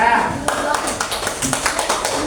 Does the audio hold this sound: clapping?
yes